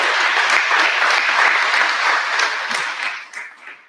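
Applause from the audience at a 2021 annual town meeting: dense, steady clapping from a large crowd that holds strong throughout, then thins and tapers slightly toward the end.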